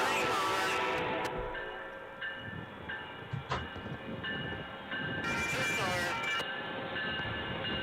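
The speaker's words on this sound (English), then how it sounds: "here comes Amtrak charging into town" An Amtrak passenger train led by a Charger locomotive, with Horizon and Amfleet coaches, rumbles past with rail noise and a brief horn-like tone, the sound swelling and easing over several seconds; faint voices are audible.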